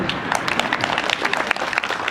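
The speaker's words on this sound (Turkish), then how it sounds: "Alkışlayın arkadaşlar" Schoolchildren in a classroom clapping together, a brisk burst of hand claps from a group of pupils, close and lively, lasting a couple of seconds without talk.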